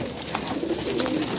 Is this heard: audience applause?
no